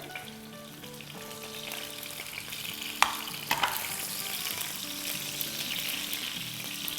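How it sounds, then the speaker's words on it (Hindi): Garlic and green chillies sautéing in a pan make a soft, continuous sizzle with a few sharp pops and taps near the middle, quiet and close, over a faint tonal background. "अब मिर्चों के साथ लहसुन को 30 सेकंड सौटे करेंगे"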